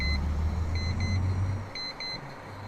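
Repeated electronic beeps chime inside a virtual truck cab in Euro Truck Simulator, sounding over a low engine drone that drops away partway through.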